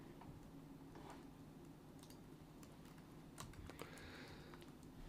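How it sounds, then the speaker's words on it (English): Quiet typing on a computer keyboard while coding in C++, a sparse run of soft, irregular key clicks over faint room hum, with a short flurry of keystrokes near the end. "I'll continue typing."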